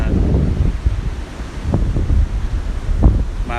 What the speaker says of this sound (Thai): ลมแรงแล้วก็ฝนก็มา